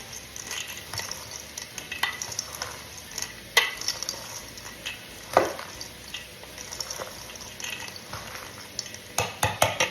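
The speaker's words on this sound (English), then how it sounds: "I'm just gonna give this a little stir and see what we think." Mild cheddar cheese is stirred into a sizzling pan: steady close frying hiss with repeated utensil scrapes and occasional sharp clinks against the pan.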